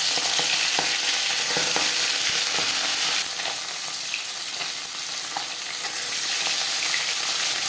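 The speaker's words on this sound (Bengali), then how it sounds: "কড়াইতে দিয়ে দিয়েছি 4 চামচ রিফাইন্ড অয়েল।" Refined oil, about four spoonfuls, heating in a kadai before fish goes in for frying, gives a loud, steady, close sizzling hiss throughout, with faint crackles and ticks scattered over it.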